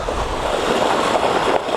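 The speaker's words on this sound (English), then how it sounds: "I kept hearing water, but I couldn't see where the creek was" Irrigation water rushes beside a rock wall in the Utah high country, a continuous broadband hiss and roar that stays steady and fairly close, with no voices over it.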